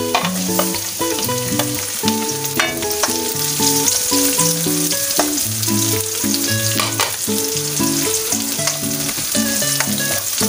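Ground beef fries in a pan with sautéed garlic and onion, hissing in a continuous sizzle. Clinks and scrapes of stirring recur throughout, and no voice is heard.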